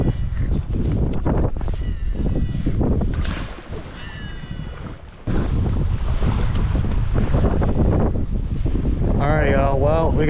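Strong wind buffets a bass fishing boat heading back to the ramp during a tournament, roaring steadily across the microphone with a brief lull midway, splashing water and scattered voices mixed in.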